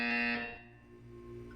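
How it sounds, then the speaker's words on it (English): A buzzer in the video game Portal 2, a loud steady electronic tone with bright stacked harmonics that starts strong and then drops to a softer sustained level for over a second. "You will hear a buzzer."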